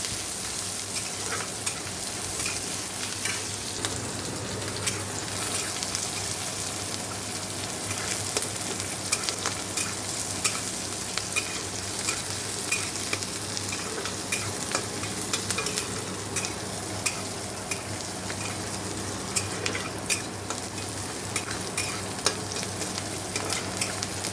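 Continuous crackling sizzle of onion, garlic, dried chili and nigella seeds frying in hot oil in a wok, with occasional scraping and stirring clicks throughout, close and steady.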